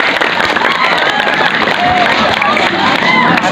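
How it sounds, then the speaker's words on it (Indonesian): Schoolchildren clapping for a classmate, a loud, busy burst of clapping mixed with excited young voices and shouts, close and continuous for a few seconds. "Tepuk tangan untuk Sipa ya."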